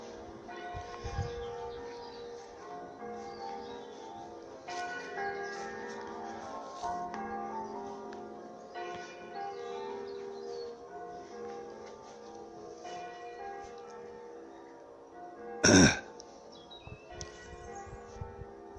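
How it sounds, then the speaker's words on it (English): Church bells ring out in a village as local bell ringers practise, a distant, steady peal of overlapping strikes carrying across a vegetable plot, with one brief loud knock near the end. "The local church bell ringers are practicing today in the village by the sound of it."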